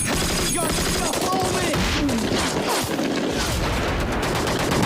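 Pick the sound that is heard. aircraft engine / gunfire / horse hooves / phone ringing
gunfire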